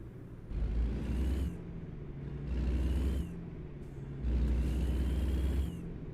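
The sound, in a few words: truck exhaust roaring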